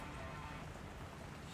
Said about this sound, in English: I think you guys can hear the rain in the background